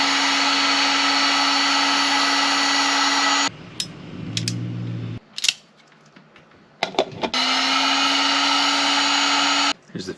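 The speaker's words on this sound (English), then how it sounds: "now I'm going to heat shrink all of these together" A heat gun shrinking tubing over 12-gauge wires for a trolling motor install, a loud steady whirring blower tone that cuts out for a few seconds with clicks and handling noise, then starts up again.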